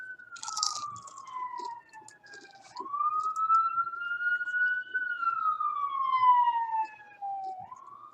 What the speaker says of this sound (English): After the Sirens are gone